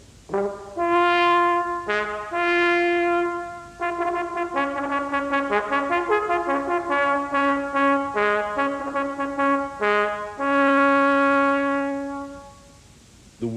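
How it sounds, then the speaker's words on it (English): Brass instruments play a simple tune in sustained, clear notes, phrase after phrase, loud and close with short pauses between phrases. "So most people who played brass instruments played tunes that sound something like this."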